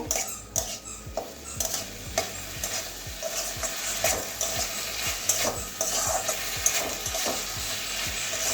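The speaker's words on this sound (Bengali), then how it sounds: "এবারে একটা টমেটো কুচি করে রেখে দিয়েছিলাম একদম ছোট ছোট, এটা একটু নাড়িয়ে নেব।" Finely chopped tomato is stirred in a frying pan, giving a continuous sizzle broken by rhythmic scraping and clinking of a spoon against the pan, close and without voices.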